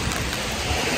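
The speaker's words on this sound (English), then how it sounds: "It's pouring." Heavy rain pours down in Copenhagen, Denmark, a dense, loud, continuous hiss close by with no voices.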